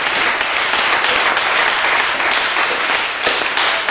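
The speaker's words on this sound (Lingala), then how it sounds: "Et acclame pour Jésus." A church congregation applauds and cheers for Jesus at the start of a night sermon, dense steady clapping filling the whole stretch at close, loud level.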